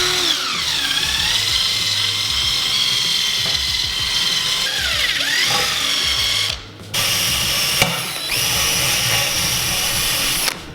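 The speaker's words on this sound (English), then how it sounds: "grab yourself a little wire brush on a drill, zip those guys right off" A power drill with a wire brush whirs steadily on a stainless steel exhaust with a gritty, scraping buzz, pausing briefly twice before resuming, loud and close with no voices.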